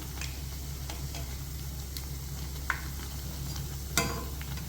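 Vada deep-frying in hot oil, a steady soft sizzle that runs throughout at low level, broken by a few light clicks and scrapes from stirring.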